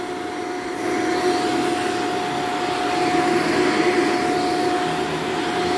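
A Shark Vertex vacuum cleaner sweeping low carpet, starting up about a second in and then running as a steady, loud whine with a constant tone, unchanged to the end and with no one talking.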